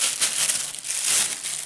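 A plastic bag is handled inside the large pan of a Norwegian Trangia camping stove set, giving a steady, close crinkling and rustling with no voices.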